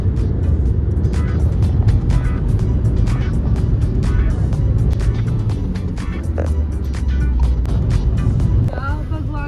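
A car being driven fast toward an airport gives a loud, continuous road and engine rumble from inside the cabin, with faint voices in the background.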